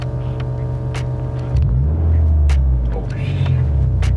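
A 2022-or-later Subaru WRX with an aftermarket valved exhaust rumbles at idle, and the drone deepens and grows louder midway as the exhaust opens, heard up close with a few sharp clicks.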